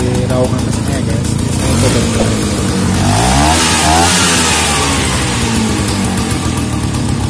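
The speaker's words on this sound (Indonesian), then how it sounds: "Terlihat dari raungan mesinnya guys." A Vespa PX scooter engine revs up close and loud, its pitch climbing and then falling in a sweep midway through a steady, rough running drone.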